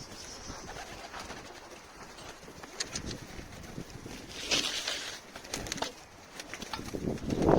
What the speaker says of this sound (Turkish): kuş geldi. Üstümüzden geçti döndü.